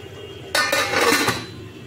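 A metal lid set onto a pot of mutton curry in a home kitchen, a single clanking contact followed by a brief rattle and settling clink, close and clear with no talking.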